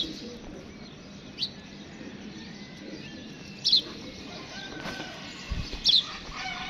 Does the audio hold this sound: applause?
no